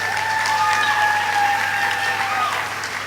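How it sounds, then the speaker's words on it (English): Audience applause after a Bharatanatyam dance recital at an arangetram, steady sustained clapping at moderate level that tapers slightly toward the end, with a sung or held tonal line running over it. "give her a nice round of applause"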